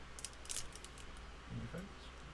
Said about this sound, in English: it literally just cuts with a pair of scissors.